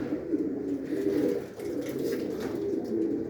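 Domestic pigeons cooing in a loft, a continuous low murmur of overlapping coos from several birds nearby.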